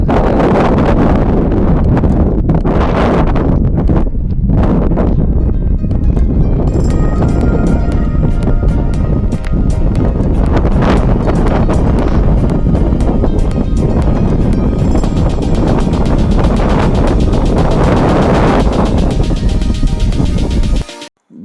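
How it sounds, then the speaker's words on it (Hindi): Strong wind buffeting the microphone at high altitude in Spiti, Himachal Pradesh, a loud, constant rumbling roar with gusty surges throughout, cutting off abruptly at the end. "बहुत ही तेज़ एयर चल रही है, क्योंकि हम हाइट गेन कर रहे हैं।"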